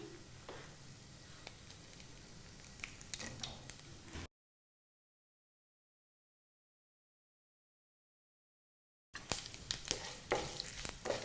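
Dried red chilies sizzle in hot oil in a pan while being stirred, a soft steady frying hiss with light scraping taps, interrupted by a stretch of silence before resuming.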